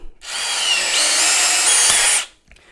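A drill with a rivet gun attachment whirs steadily for about two seconds while setting a rivet, rising slightly in pitch midway, then stops abruptly. The sound is close and loud.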